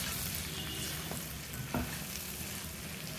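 Chicken fry cooks on high heat at its last stage, sizzling and crackling steadily in the pan. A couple of sharper stirring scrapes come through, close by, with no voices.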